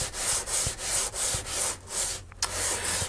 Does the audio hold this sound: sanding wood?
yes